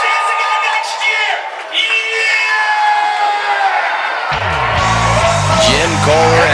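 Monster truck event crowd in the stands at Little Valley, New York, roaring and whooping loudly and continuously, mixed with a loud amplified announcer voice over the cheers.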